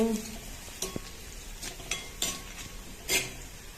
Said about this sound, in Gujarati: હવે ડુંગળી ચડી ગઈ છે